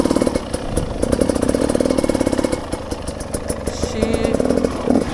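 A smoky motorcycle engine runs close by in Crăiești, a steady throbbing exhaust beat with small rises and dips in revs throughout, with no talking over it.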